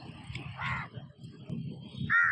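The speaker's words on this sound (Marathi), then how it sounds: "हे बघा तिच्या बर्थडे साठी सगळे कावळे पण आलेले आहेत." Crows caw a few times, loud and close, with short harsh calls breaking through background voices at a birthday celebration on Marine Drive, Mumbai.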